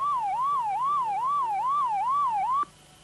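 A loud electronic attack warning siren warbles up and down in a fast, regular wail, then cuts off abruptly near the end.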